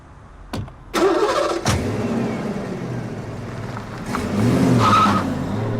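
Car engine turning over and catching with a sharp burst, then running loudly and pulling away, the engine note swelling again near the end; no talk over it.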